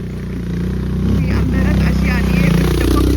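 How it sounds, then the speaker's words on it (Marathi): A motorcycle engine rumbles close by and revs as it passes, with a steady low drone and faint voices in the background. "हे अशी बाईक येते"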